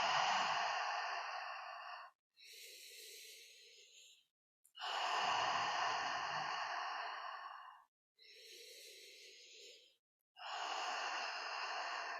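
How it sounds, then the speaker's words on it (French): Slow, deep breaths during a breathwork session, long loud airy exhales alternating with softer, shorter inhales, close and quiet, with no talking. "vous reprenez une nouvelle respiration"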